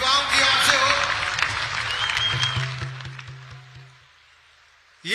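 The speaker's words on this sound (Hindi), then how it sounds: "मैं चाहता हूं सब अपने स्थान पर खड़े होकर जोरदार तालियों के साथ प्रधानमंत्री नरेंद्र मोदी जी का स्वागत" Audience applause and crowd noise at a national youth festival welcoming Prime Minister Narendra Modi, loud and sustained at first, then thinning and fading out under a low musical drone.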